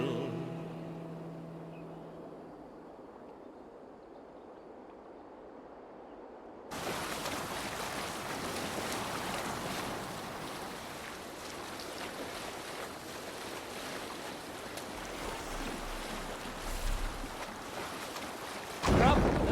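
A Viking longship under sail at sea in Assassin's Creed Valhalla, steady wind and rushing waves that begin abruptly after a quiet stretch and continue as a broad, fairly loud wash, with brief speech at the start.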